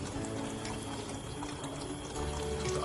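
Electric pump in an irrigation setup pushing water up to an upper reservoir, a steady continuous rush of flowing water with a low mechanical hum underneath, close and unbroken throughout.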